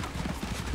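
Hooves of horses pulling a chariot in Assassin's Creed Origins clop in a quick, steady rhythm, close and continuous over a short stretch.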